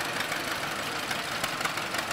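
Old tractor engines run past in an outdoor tractor parade, a dense, continuous chugging and knocking rumble that stays loud and steady across the whole short stretch.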